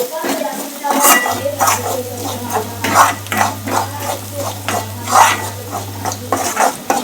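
A spoon stirs potato bhaji with yellow spices in a pan, producing repeated scraping and clinking strokes against the metal in a steady rhythm, with a faint sizzle underneath.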